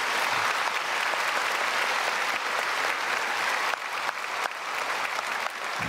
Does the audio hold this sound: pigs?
no